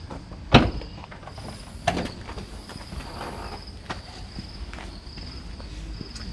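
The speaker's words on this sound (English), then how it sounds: "Let's open up the boot." The rear boot of a BYD T3 electric seven-seater van opens with a sharp latch click followed by a second thud and a soft mechanical slide, heard close up against faint outdoor ambience and insect chirping.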